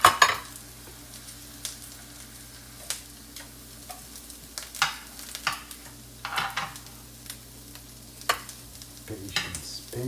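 Peppers cooking in a pan that is not yet fully hot, with light irregular sizzling and frequent stirring scrapes and taps, close and fairly quiet.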